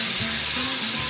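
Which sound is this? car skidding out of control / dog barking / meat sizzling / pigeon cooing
meat sizzling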